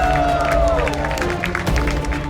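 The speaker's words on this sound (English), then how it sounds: "The crowd, they start chanting" At a MasterChef Australia street food challenge, a crowd makes a loud, continuous roar with bursts of clapping and cheering. Sustained tones and voices run through it.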